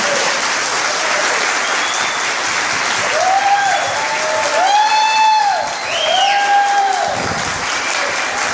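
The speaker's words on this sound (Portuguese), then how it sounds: "eles merecem uma salva de palmas" Sustained audience applause at a seminar, dense clapping throughout with a few whistles and cheers rising in the middle.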